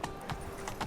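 Horse hooves clip-clop at a steady rhythm in The Witcher 3, brief and fairly close, a light patter of repeated hoofbeats over low background ambience.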